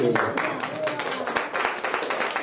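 Audience clapping at a church retreat for couples, a dense steady patter of many hands lasting throughout, with voices talking over it.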